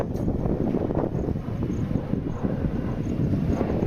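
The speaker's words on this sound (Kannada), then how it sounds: "ಈ ಕಡೆ ಏರ್ಪೋರ್ಟ್ ಇರೋದ್ರಿಂದ ಆವಾಗಲಿಂದ ಫ್ಲೈಟ್ಗಳು ಹೋಗ್ತಾನೆ ಇದ್ದಾವೆ" An airplane flies low over a hill near an airport, a loud broad roar that rumbles steadily with wind buffeting the microphone for the whole few seconds.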